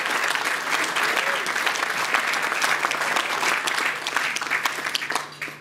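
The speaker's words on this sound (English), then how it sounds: "Applaud it." Steady applause from an audience at a seminary fundraising lunch for a priests' support and education fund, dense clapping sustained for several seconds with a faint voice underneath.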